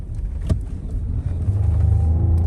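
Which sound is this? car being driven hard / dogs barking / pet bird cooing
car being driven hard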